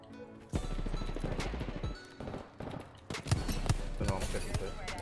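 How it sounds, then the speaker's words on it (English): Wingman pistol shots in Apex Legends ring out as a series of loud, sharp cracks spaced about a second apart, with busy game sounds between them and a voice talking underneath. "So really good shots there with a wingman."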